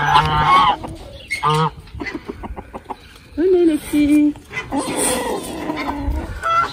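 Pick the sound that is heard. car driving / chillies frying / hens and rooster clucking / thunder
hens and rooster clucking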